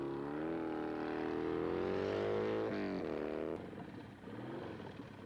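A car drives down an empty highway in a movie scene, its engine holding a steady droning whine that rises slightly in pitch, then drops away into a lower, rougher rumble as it continues.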